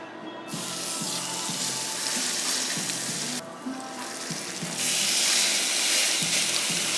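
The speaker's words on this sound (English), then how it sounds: "we are going to oil the bottom of the pressure cooker and let the meat sear" Seasoned meat searing in the oiled bottom of a pressure cooker, a loud, dense sizzle that hisses continuously and swells brighter partway through, close up with no talking.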